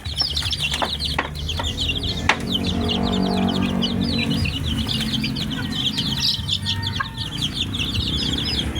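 Two mother hens and their many chicks fill a backyard with sound: constant high peeping from the chicks over low, repeated clucking from the hens, with a few sharp knocks near the start.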